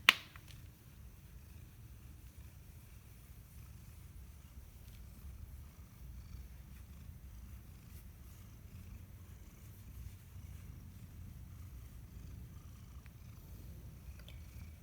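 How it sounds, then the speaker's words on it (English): A cat purrs steadily and softly up close, a continuous low rumbling throb that carries on for the whole stretch, with a brief click at the start. "But can you hear his purr?"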